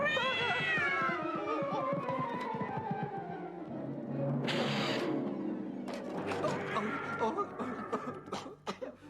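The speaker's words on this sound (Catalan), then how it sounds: "Oh, no, ja torna el gat!" A cat yowls in a long, drawn-out wail that slides downward, followed by scuffling and sputtering noises, fairly close.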